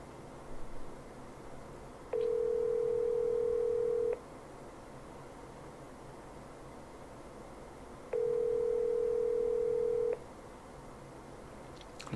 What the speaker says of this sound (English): I'm going to call that and see if we get it to ring through